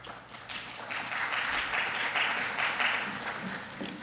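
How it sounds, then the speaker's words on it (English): An audience at a campus campaign volunteer orientation applauds, a dense, steady patter of many hands held for about four seconds, quiet and somewhat distant. "I know they're clapping for you, not for me starting"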